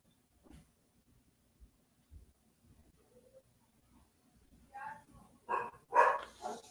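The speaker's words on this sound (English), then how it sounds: "my dog is barking" Dog barking indoors, a few faint distant barks at first building to several louder, closer barks near the end, with quiet background noise between.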